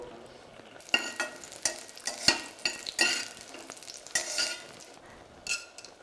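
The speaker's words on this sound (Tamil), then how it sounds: "அதை நம்ம ஒரு தடவை நல்லா நல்லெண்ணெயில் வறுத்து எடுத்துக்க போகிறோம்." Small cut pieces of pirandai (adamant creeper) frying in sesame oil, with a soft sizzle under intermittent stirring scrapes and clinks in irregular bursts, close and fairly quiet.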